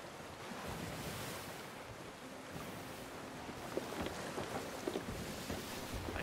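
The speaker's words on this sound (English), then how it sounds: "This storm really likes me." Stormy sea waves crash and hiss under strong wind in the Sea of Thieves pirate video game, a dense continuous roar with occasional louder splashes.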